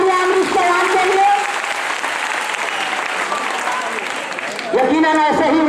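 Loud, steady applause from a crowd at a prize distribution ceremony for a general knowledge competition fills the whole stretch, with a voice briefly rising over it near the end.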